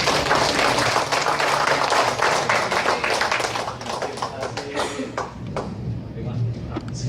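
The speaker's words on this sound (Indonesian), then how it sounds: "Sekali lagi tepuk tangan." Audience applause in an Indonesian business seminar hall, dense continuous clapping from a large crowd filling the room, loud and sustained before thinning slightly toward the end.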